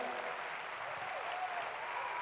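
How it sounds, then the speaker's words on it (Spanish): Audience at a leadership event in Panama applauding a national talent, a soft, dense, continuous wash of clapping from a distant crowd, steady without breaks. "Que se mantenga ese aplauso, de verdad"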